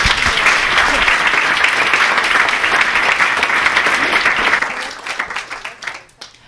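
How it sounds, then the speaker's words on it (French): An audience at a landscape symposium in Paris applauds after a closing speech, steady loud clapping from a full room for about five seconds that then thins out into a few scattered claps. "On peut applaudir."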